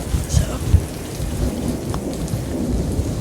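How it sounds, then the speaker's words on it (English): Rain pours steadily through a thunderstorm, with low rumbles of thunder rolling beneath the close, constant patter of drops, and no one speaking. "you don't like thunder either"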